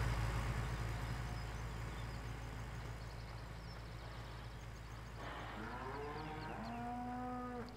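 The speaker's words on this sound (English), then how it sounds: "Shut up, cow." Cattle moo in Farming Simulator 17 over a steady low engine rumble, with a long drawn-out low call rising near the end, close and fairly loud.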